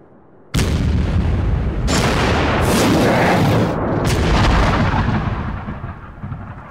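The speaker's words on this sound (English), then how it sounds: "The British cannon switched to firing what they called canister" British cannon fire canister shot, boxes packed with musket balls, in a reenacted battle for North America. Several loud, near booms burst in quick succession and roll out into a long fading rumble.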